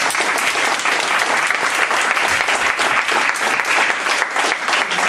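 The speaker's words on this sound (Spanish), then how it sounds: "con un aplauso, ¿no?" A dense, sustained burst of audience applause for the panelists at a conference on minority languages of Aragon, with many hands clapping loudly and evenly throughout, no break.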